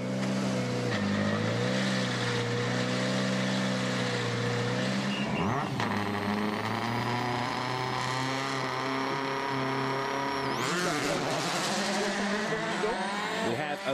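Sebastian Loeb's Citroën rally car starts a tarmac stage of the Cyprus Rally on gravel tyres, its engine revving hard and climbing through gears with sharp upshifts, loud and close for the whole stretch.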